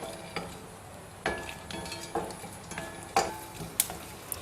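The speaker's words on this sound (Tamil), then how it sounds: "அதே எண்ணெயில் பார்த்தீங்கன்னா இந்த சுண்டக்காய் வத்தல் போட்டுக்கிறேங்க" Dried turkey berries (sundakkai vathal) tossed in hot oil in a pan, with a faint sizzle and several sharp utensil clicks and scrapes against the pan at irregular intervals, close and fairly quiet.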